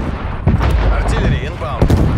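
Artillery fire in Call of Duty: Black Ops Cold War multiplayer, with a couple of heavy booming blasts, one near the start and one near the end, under an in-game voice.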